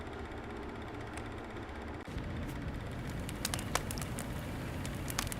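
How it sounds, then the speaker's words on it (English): A campfire crackles on a dark night, with sharp, irregular pops over a steady broadband hiss. The fire is fairly close and continuous, with no voices. "the fire crackles in the midnight sky"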